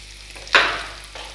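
Chilli paneer with green chillies stirred in a pan, a quiet hiss broken by a single brief scraping stir that swells and fades.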